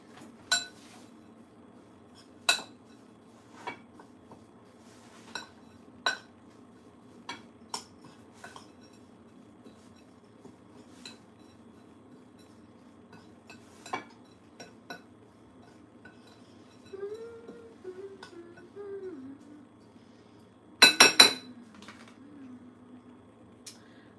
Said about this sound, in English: let me stir this up a little bit